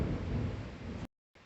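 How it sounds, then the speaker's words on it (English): A deep, rumbling roll of thunder from an outdoor thunderstorm with lightning, loud and continuous for about a second before cutting off abruptly, then a faint return of low background rumble. "It's lightning and thundering outside."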